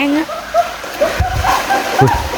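A vehicle pushes through deep floodwater, throwing up splashes and sloshing surges, while excited voices shout and talk loudly over the rushing water.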